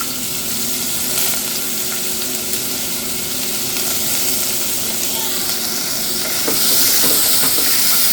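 Finely chopped onions sauté in a pan for goat leg curry, giving a steady close sizzle that runs through, with light stirring and a brief louder hiss near the end.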